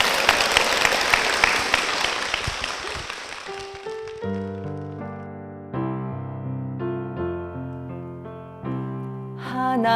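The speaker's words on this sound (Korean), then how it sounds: "여러분, 이 가정에 하나님의 축복이 임하시길 박수 부탁드립니다" Congregation clapping in a church, a burst of lively applause for about four seconds that fades as a sustained keyboard or organ begins playing a hymn melody.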